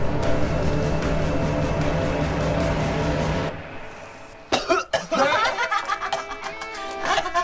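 Loud, harsh coughing erupts after a stretch of steady background noise, a cluster of bursts with throat-clearing and some chuckling mixed in.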